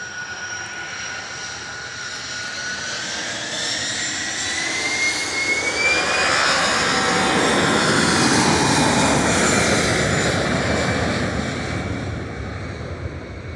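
An Aer Lingus jet from Dublin at Manchester Airport roars past with a whining engine tone that rises and sweeps upward, growing louder toward the middle before easing off, with no talk over it.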